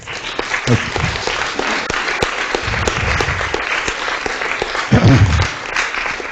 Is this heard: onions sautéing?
no